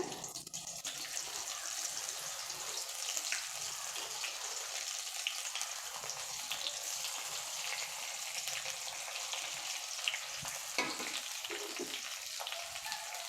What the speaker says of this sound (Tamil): இப்போ பொறுமையாக ஒவ்வொன்றா இந்த கத்திரிக்காயை நீங்கள் போடுங்க